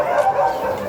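Dogs barking and yipping at a pets and livestock market, a steady close chorus filling the whole second without pause.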